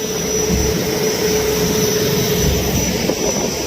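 Racing motor boats at sea produce a loud, steady engine drone with a sustained whine, continuous and close throughout.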